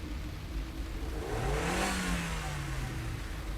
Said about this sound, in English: Cliff took his foot off the brake and gave the gas pedal a little tap.